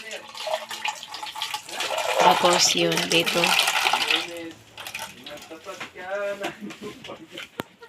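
Water runs from a tap into a sink, a steady splashing rush beneath people talking nearby.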